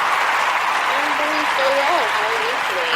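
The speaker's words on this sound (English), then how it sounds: "Please give her a round of applause." An audience applauds a special guest with a steady wash of clapping throughout, while a voice speaks over it.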